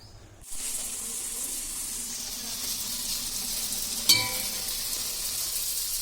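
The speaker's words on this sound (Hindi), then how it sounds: "मैंने कहा पूरियाँ भी तल लेते हैं" Puris of cumin-flecked wheat dough frying in hot oil, a steady close sizzle that begins abruptly and runs on evenly, with a brief clink partway through.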